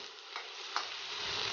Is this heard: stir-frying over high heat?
yes